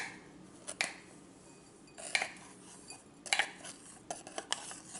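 Cashew powder being taken out of a small grinder: a few sharp metallic clinks and taps of spoon on metal jar, spaced irregularly over a quiet background, no speech.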